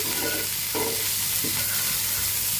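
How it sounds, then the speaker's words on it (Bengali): A spatula stirs quail eggs with small local potatoes, turmeric and salt in a pan. Several scraping strokes come close and clear over a steady, soft frying sizzle, with no talk. "সাথে ডিমগুলোও দিয়ে দিলাম এখন আমি আবার নাড়িয়ে চাড়িয়ে নিচ্ছি"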